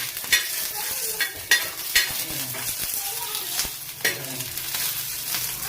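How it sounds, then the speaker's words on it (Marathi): Green chillies frying in a pan give a steady, loud sizzle, broken by several sharp scrapes and clinks as they are stirred and turned. "बघा आता इथं मिरची फ्राय झालेली एका साईडने"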